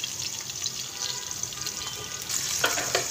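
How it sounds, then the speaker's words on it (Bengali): Chickpeas frying in a pan, a steady close hiss of oil with soft stirring scrapes that grow a little louder near the end. "এখন আমি ছোলা বুট রান্না করতেছি।"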